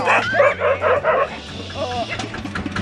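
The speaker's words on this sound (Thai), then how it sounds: "หมาเห่าเมื่อถึงทางน้ำ" A dog yips and barks in a quick series of bursts, then whimpers, close by at a river crossing during a rafting trip, with people talking at the same time.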